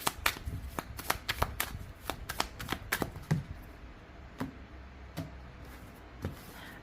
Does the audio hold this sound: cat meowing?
no